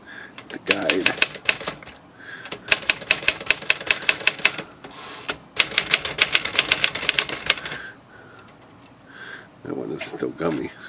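Rapid bursts of crisp key strikes on a Smith Corona Sears Tower typewriter with sticky keys, loud and close, in fast runs broken by short pauses and brief louder knocks.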